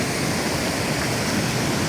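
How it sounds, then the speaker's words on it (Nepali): Floodwater rushes down a stream in a loud, constant broadband roar that sounds close and heavy, with no talk over it for the two seconds. "अहिले कत्रो भल चाहिँ यस्तो बग्दै आएर"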